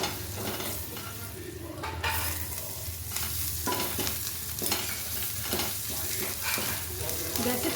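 Bay leaf and whole garam masala tempering in ghee with chopped ginger and garlic added, sizzling and frying steadily while being stirred, with scraping spatula strokes throughout.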